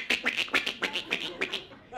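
Voice imitation of a South American goose call by a stand-up comedian: a quick, steady series of sharp, nasal honking bursts, close and clear.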